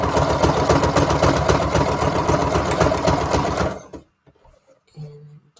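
A sewing machine runs a steady zigzag stitch across a junk journal page, a loud, fast, continuous mechanical whirr that stops abruptly, leaving a few faint handling sounds.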